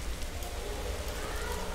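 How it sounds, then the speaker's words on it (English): Realistic Roblox game rain falls as a steady, even hiss of drops on surfaces, continuous and fairly loud, with no voices. "like a realistic rain. It gets the rainy vibe."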